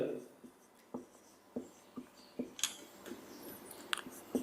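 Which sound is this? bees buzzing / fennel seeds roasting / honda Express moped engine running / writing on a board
writing on a board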